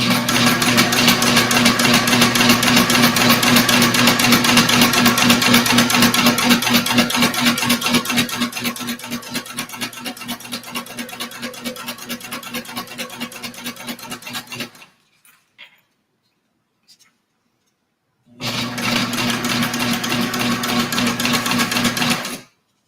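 A sewing machine stitching a Rayna sling, running in a fast continuous whirring rattle for about fifteen seconds, stopping briefly, then starting up again, loud and close.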